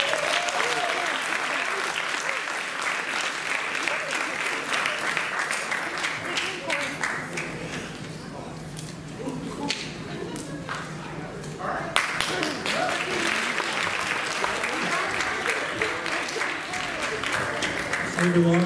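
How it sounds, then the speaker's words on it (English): Sustained audience applause at a middle school performing arts awards ceremony, honoring a school show choir; dense, steady clapping from a sizeable crowd in a hall, continuing evenly for the whole stretch. "let's give them a round of applause"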